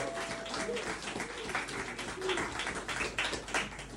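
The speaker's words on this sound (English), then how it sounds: "Everyone can give me one more round of applause for the one from Marrron." A small crowd claps for a performer at a Monday-night open mic in Brunswick, a steady patter of hands with some scattered voices mixed in.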